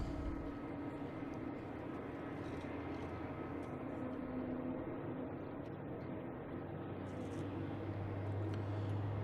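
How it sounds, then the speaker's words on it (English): A British Airways Airbus A380 taxiing toward the runway at Boston Logan at dusk, heard as a distant, faint, steady jet engine rumble with no talking. "we got British Airways, the A380, heading to the runway,"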